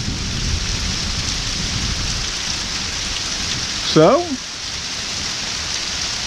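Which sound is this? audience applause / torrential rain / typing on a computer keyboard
torrential rain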